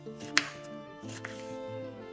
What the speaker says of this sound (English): cut the green chilies into small pieces